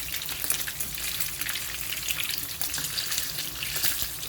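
Slices of Spam fry in a hot pan, giving a dense, steady crackling sizzle with a bright spitting hiss that stays fairly even and close throughout.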